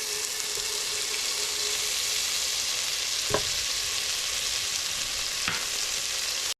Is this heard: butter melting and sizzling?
yes